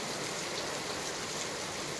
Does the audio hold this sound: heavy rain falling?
yes